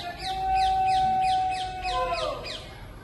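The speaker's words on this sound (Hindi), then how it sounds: "सुबह ना चिड़ियों की आवाज़ कितनी अच्छी लगती है।" Birds call in a rhythmic series of repeated notes nearby, with a steady high whistle-like tone running underneath.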